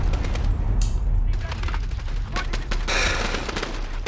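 Bursts of rapid gunfire in Call of Duty Modern Warfare on PC crack out loud and close in quick succession, with voices talking over the shooting.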